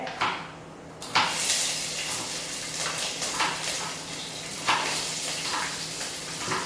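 Green chili, ginger, garlic and onion frying in hot oil after mustard seeds have popped, a steady close sizzle broken by a few sharp clanks and stirring scrapes from the pan.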